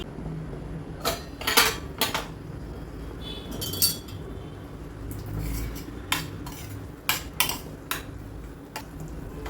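A utensil scrapes and clinks against a pan while tomato chutney cooks, with several sharp metallic knocks and stirring rubs spread irregularly over a low background, close and without talk.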